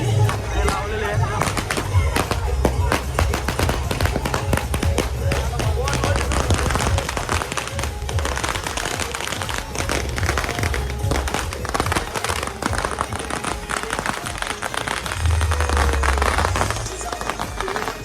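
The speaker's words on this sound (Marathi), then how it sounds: "फटाक्यांची माळ लावतोय इथे" A string of firecrackers goes off during a village palanquin procession, a long, dense burst of rapid cracks and pops over crowd noise, with voices mixed in throughout.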